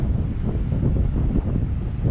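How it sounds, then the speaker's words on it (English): Steady low wind rumble buffeting the microphone on a Philippine beach, with a faint wash of surf underneath, continuous and fairly loud throughout. "It's kind of windy right now."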